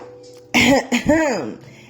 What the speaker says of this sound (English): Confirmational coughs too.